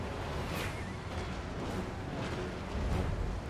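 Flame cannon firing during a siege battle in Total War: Warhammer 2, a dense continuous rumble of blasts and booming bursts that stays loud and steady throughout, with a few sharper peaks.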